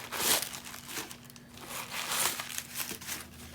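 Coach tissue paper crinkles and rustles inside a pocket of a vintage Coach pocket purse, close and crisp, in several bursts of crunching and crackling with brief pauses between them.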